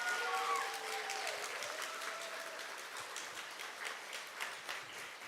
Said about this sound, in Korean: 우리 한 번 더 크게 박수했으면 좋겠습니다